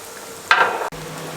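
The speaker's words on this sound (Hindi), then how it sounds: "इस तरीके से मैं ये भी फ्राई कर लूँ कंप्लीट" Potato cheese sticks deep fry in oil, giving a sudden loud burst of sizzling that lasts about half a second. It cuts off sharply and settles back to a low, steady background hiss.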